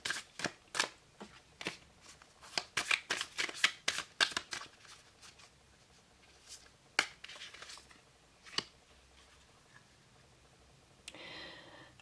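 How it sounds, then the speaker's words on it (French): Oracle cards from a Sweet Ladies deck are shuffled and one is drawn for a monthly horoscope reading: a burst of quick, crisp riffling snaps over about six seconds, then a few isolated card flicks and a soft slide near the end. "on va tirer une petite carte du Sweet Ladies pour avoir une indication sur ce mois-ci"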